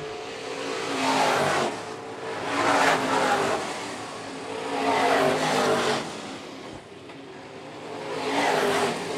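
Modified race cars roaring around the corners of a dirt track at Phillips County Raceway, engines swelling and fading in repeated passes at moderate distance.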